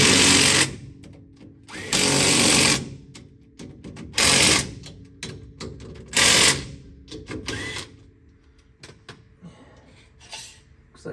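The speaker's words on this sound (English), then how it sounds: "double check and torque up these bolts" A power tool torques up bolts on a Chevelle no-prep drag car, firing in several loud mechanical bursts of a second or so, with quieter ratcheting and clicking gaps between them.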